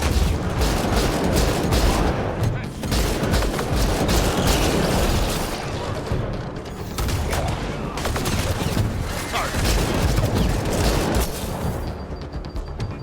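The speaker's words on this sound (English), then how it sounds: "Okay, that's a lot of bullets coming in." Heavy incoming gunfire in the video game Mass Effect Andromeda rattles in a continuous barrage of shots and booms, loud and close, with brief dips before the volley resumes.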